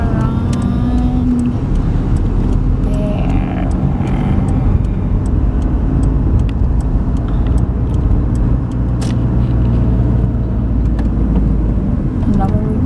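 A car driving through city streets around the Seattle, Bellevue and Tacoma area: a steady loud interior engine and road hum with occasional clicks, while people chat over it inside the cabin.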